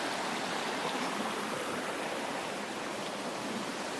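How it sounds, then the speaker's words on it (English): A Vermont brook runs steadily over rock, a dense, even rush of flowing water that fills the whole stretch without pause, close by and fairly loud with no voices. "Brook's running along here."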